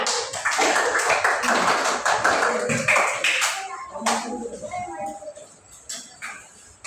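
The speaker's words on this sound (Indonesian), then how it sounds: "Tepuk tangan" Grade one pupils in an Indonesian primary school classroom clap together in a quick burst that fades into scattered claps, with children's voices and a teacher speaking afterward.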